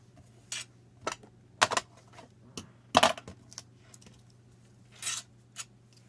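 Scissors trim small pieces of paper for a handmade card, giving several crisp, close snips and paper rustles spaced irregularly over a quiet room hum, with no talking.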